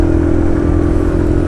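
A Suzuki RV125 motorcycle engine runs loud and close as the bike sets off, a steady low throb with a thrumming drone throughout.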